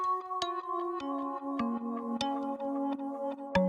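A synth melody run through a narrow flanger plays alone: plucky repeating notes with sharp percussive clicks, moderately loud and steady, stepping down in pitch partway through.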